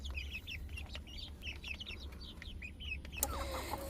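Backyard hens and a rooster, including a Wyandotte, cluck and chirp in a steady chatter over a low rumbling background, close by, with a brief sharp noise near the end.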